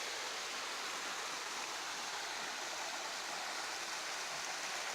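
Steady broadband rush of a hillside waterfall and stream in light rain, even and unbroken, moderately distant with no voices.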